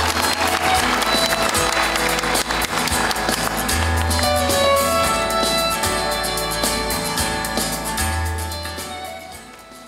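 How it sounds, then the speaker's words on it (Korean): Large audience applause at a university degree ceremony, welcoming the president, dense and sustained over a low rhythmic music bed, slowly fading toward the end. "총장님을 큰 박수로 맞이하여 주시기 바랍니다."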